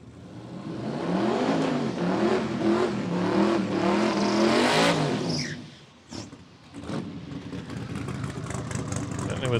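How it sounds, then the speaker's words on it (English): A loud car roars past on a racetrack at a Brisbane jamboree testing day, its engine note swelling and rising as it nears, then dropping away sharply, with fainter engine noise lingering afterward. "Certainly was a loud car."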